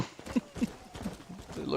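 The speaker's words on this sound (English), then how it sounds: "Apparently, there the horse goes." A horse's hooves clip-clop in the Red Dead Redemption video game, several soft separate hoofbeats at an uneven pace, faint under someone talking.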